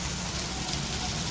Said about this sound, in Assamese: ৰাতিপুৱা কি বৰষুণ বাপৰে